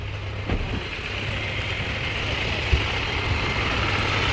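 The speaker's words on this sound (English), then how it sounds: "the compressor has engaged" Toyota car engine idling with a steady low hum as the AC compressor engages, adding a faint mechanical click and a slight shift in the drone under a constant background whir.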